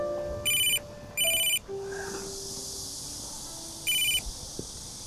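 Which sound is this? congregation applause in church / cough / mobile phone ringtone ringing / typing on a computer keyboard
mobile phone ringtone ringing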